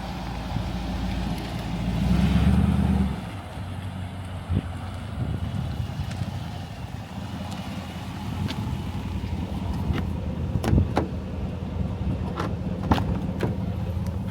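A Dodge Durango drives up and arrives outdoors, its engine rumble swelling briefly then fading, followed by wind buffeting and scattered knocks and clicks.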